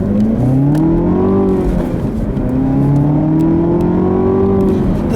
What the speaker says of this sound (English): It does sound pretty good actually for a little 4-cylinder here, and it's got a good little growl to it